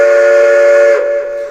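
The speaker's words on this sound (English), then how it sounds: "That's the long whistle" A Blunami BLU-4408 model train sound decoder plays a long, loud steam locomotive whistle, a steady bright tone that holds for about a second before cutting off into a fading, softer tail.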